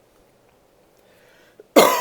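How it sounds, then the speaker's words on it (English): A single loud, harsh cough from a lecturer bursts out near the end of a political science class, preceded by a quiet room and a faint click. "excuse me, I'm so sorry I coughed"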